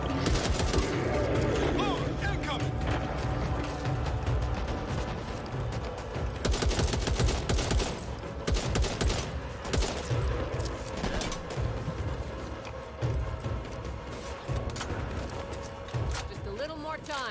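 Rapid, dense bursts of automatic gunfire in Back 4 Blood, loud and sustained over many seconds with booming impacts mixed in, while someone talks over the shooting.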